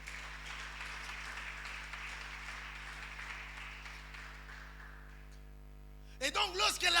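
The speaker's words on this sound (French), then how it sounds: "Est-ce qu'on peut acclamer le Seigneur?" A church congregation applauds steadily, the clapping fading away over several seconds before a voice begins speaking.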